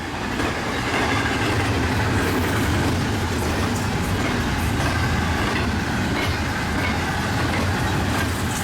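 A westbound priority freight train rolls past in Woodbine, Iowa, a steady, loud roar of wheels and rumbling cars with faint clickety-clack, continuous and close for the whole stretch.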